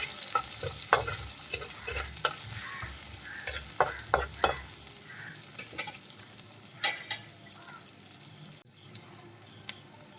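Seven or eight chopped small onions sauté in hot oil for a Kerala fish curry, with a crackling sizzle and repeated sharp spatula scrapes and knocks against the pan, near and without speech.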